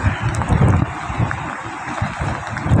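Strong gusting typhoon wind by Manila Bay buffeting the microphone in heavy, rumbling surges, loud and close, with no voices.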